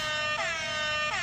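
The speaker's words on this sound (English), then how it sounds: "It's just an air horn." A loud, blaring air horn blast, held steady with a brief dip partway through, close and alone.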